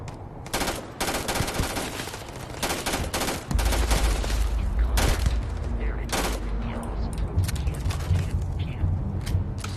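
Sustained rifle gunfire in Starfield, loud and close, rattles in fast dense bursts over a constant rumbling game background, with a few sharp impacts and no speech over it.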